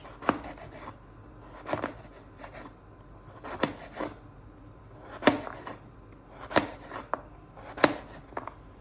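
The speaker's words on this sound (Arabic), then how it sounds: "وابدا اقطعه زي صوابع البطاطس رفيعه خالص" A kitchen knife slices beetroot into thin, fry-like strips on a board, with about eight crisp chopping strokes at a loose, uneven pace, close and clear with no talking.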